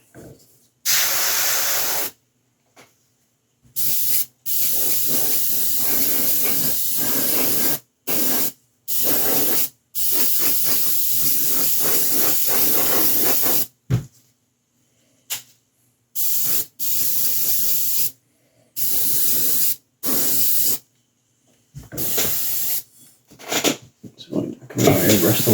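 An airbrush sprays paint onto a 1/6 scale Predator sculpture in many short hissing bursts separated by silent gaps, close and steady, with occasional speech.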